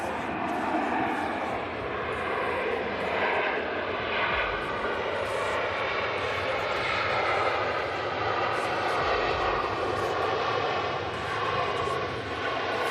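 Airliner jet engines roaring steadily at Manchester Airport, a broad continuous rumble and whine holding at constant loudness throughout, fairly distant and without talk.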